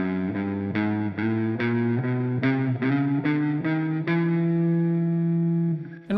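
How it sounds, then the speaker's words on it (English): Distorted electric guitar played with alternate picking, a steady series of about nine evenly spaced picked notes, loud and close, with the last note left ringing out. "The second one would be alternative picking."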